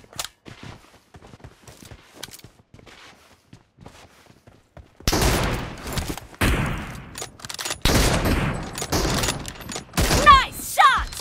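Video game gunfire cracks in rapid bursts, faint and sparse at first, then loud, dense volleys of shots. Game voices can be heard between the bursts.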